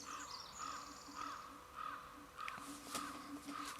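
A voice imitates a crow, giving a steady series of harsh, nasal caws at an even pace, fairly faint against a light background hiss.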